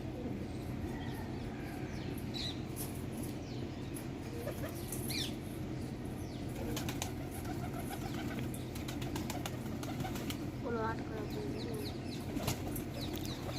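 Pigeons, some red-necked, coming down to peck at feed, with soft cooing, scattered chirps and faint wing flutters over a constant low background hum, fairly quiet and distant.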